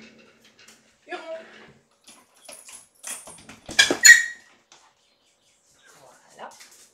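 A dog whimpers indoors in short, high squeaky bursts near the microphone, mixed with door and handling noises, while someone talks in between.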